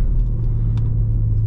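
A 2024 BMW M3 Competition xDrive shifting and accelerating, heard as a loud, close, steady low engine rumble with no voices.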